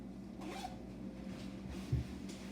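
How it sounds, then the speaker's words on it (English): A hunting vest being zipped up, a short scratchy zipper pull close by with a soft thump near the end, no talking. "zip our vest up here"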